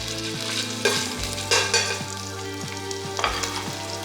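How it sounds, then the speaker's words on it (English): Chicken breast sizzles loudly in a hot pan, with a steady crackling hiss broken by several scraping stirs. "when I hear this sizzle at a good rate"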